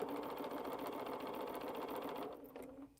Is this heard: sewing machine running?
yes